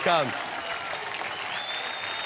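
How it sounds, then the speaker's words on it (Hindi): A television game-show studio audience breaks into a short round of applause right after a brief voice, with the clapping holding steady and moderately loud for about two seconds. "तालियां"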